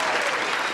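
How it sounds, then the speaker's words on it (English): A short, even burst of applause from many hands, dense and steady for under a second with no talking over it. "applause for me. Applause for me."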